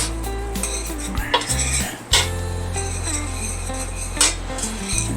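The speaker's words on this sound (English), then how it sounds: "I'm just going to stir that around and just let this go." A spoon stirs coq au vin in a pot, scraping and clinking against the metal in close, repeated strokes over a soft sizzle, with background music.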